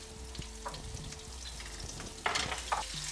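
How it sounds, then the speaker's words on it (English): Garlic, ginger, MSG and salt fry in a hot wok for a vegan Chinese takeaway-style chicken and mushroom dish, a steady close sizzle broken by stirring scrapes and a couple of sharper clatters. "Now you want to keep moving this around quite quickly because otherwise your garlic will burn."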